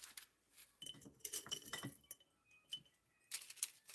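Glass jars clink and knock together as they are handled, with several short bright chinks in scattered clusters, close but fairly quiet.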